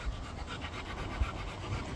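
A Rottweiler pants softly and rhythmically at close range, with quick regular breaths and a faint scuffing underneath, alone and quiet.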